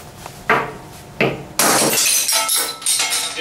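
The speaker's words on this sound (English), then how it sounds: "when we hit this one with a hammer," A racquetball frozen in liquid nitrogen is struck with a hammer and shatters, several sharp cracking impacts followed by a loud bright burst of breaking fragments and scattering debris, close up.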